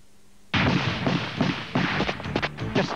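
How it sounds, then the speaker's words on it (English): Troops advancing on a front line fire their weapons, a sudden burst of sharp, loud reports and thuds following in rapid irregular succession after a moment of quiet. "Boris Yeltsin's troops are firing as they advance."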